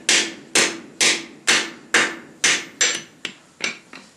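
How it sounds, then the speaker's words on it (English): A hammer strikes metal on a homemade stake anvil during blacksmith forging: nine sharp, ringing blows at a steady rhythm about half a second apart, close and loud, with the last few lighter. "My hammer control with this is atrocious."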